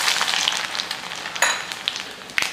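Vadagam fries in hot oil with a steady crackling sizzle and sharp pops, loud and close, and no talking.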